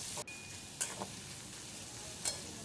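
Sliced onion frying in a pan, a faint steady sizzle with a few soft stirring scrapes and clicks, quiet and close, with no one speaking.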